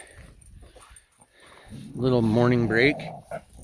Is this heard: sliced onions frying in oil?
no